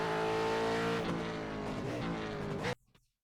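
V8 race car in a racing game at Spa, engine screaming loud and close as it climbs through the gears with rising pitch, then cutting off abruptly into near silence.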